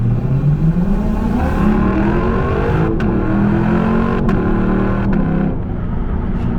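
A Lexus LC500 pulls away hard from a green light, its engine note climbing steadily through the revs and shifting gears, loud and close from inside the cabin, with no talk over it.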